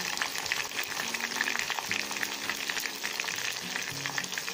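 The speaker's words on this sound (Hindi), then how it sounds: "अब इसका थोड़ा कलर चेंज होने तक हम इसको फ्राई कर लेंगे ऐसे" Cumin seeds and garlic fry in hot oil for a Hyderabadi dahi kadhi tempering, a dense, steady, close sizzle with fine crackling and no voices.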